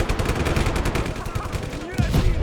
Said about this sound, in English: I bet the cannon still works.